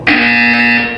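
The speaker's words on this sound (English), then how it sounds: "You will hear a buzzer." Buzzer in the video game Portal 2 sounds as a loud, continuous electronic buzz that starts abruptly and holds steady for about a second, with no other sounds.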